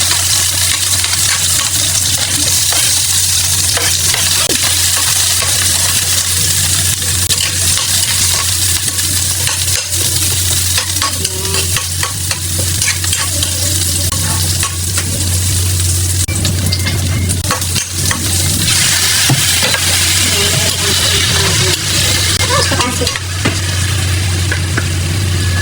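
Garlic frying in oil in a wok for chicken adobo makes a loud, dense, crackling sizzle, steady for the whole stretch, with scattered scrapes and clinks from stirring.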